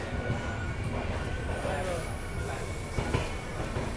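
The Tirupati–Chikkamagaluru express 17423 rumbles through Kadur Junction railway station, a steady rolling clatter with a thin squeal of wheels overhead and a few sharper knocks near the end.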